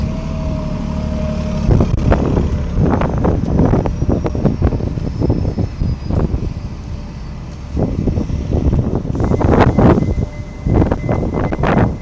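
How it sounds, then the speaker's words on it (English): Strong wind gusting outdoors by a street, with heavy buffeting and roaring across the microphone that swells and eases in waves throughout. "That wind."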